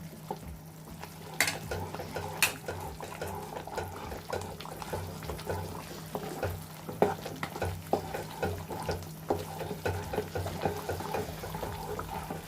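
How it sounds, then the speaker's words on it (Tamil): Wheat halwa being stirred steadily with a ladle in hot ghee, a continuous soft scraping and gentle frying sizzle with a repeating rhythm of stirring strokes, close and moderately quiet with no talking. "விடாமல் இந்த மாதிரி கரண்டியில் கிண்டிக்கிட்டே இருக்கணும்."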